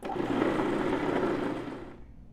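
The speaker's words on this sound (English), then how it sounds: "this machine can also be used as a food processor, or it can be used to make any nut butter that you like" Nutri-Milk nut milk maker, a kitchen machine that also works as a food processor, running with a steady loud whirring motor drone that fades out near the end; no talking.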